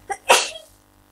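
A single sharp human sneeze, close and loud, with a short intake just before it. The burst fades quickly into quiet.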